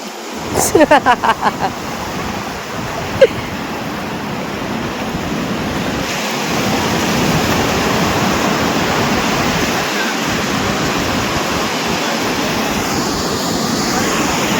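Continuous roar of sea waves washing onto a beach, with a few brief knocks near the start and wind rushing across the microphone.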